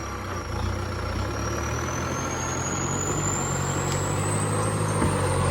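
Turbocharged engine with a step 2 turbo and 3-inch twin side exhaust holds a loud, steady rev with a rising turbo whistle climbing over a dense rumble, heard up close.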